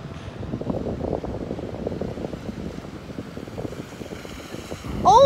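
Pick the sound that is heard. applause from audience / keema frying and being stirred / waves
waves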